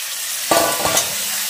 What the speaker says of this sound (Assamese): আলুখিনি ভজা হৈ গল এতিয়া মাংসখিনি ইয়াতে দি দিম